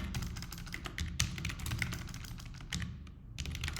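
Code being typed on a computer keyboard, a steady run of quick, close key clicks with short pauses, loud and alone without talk.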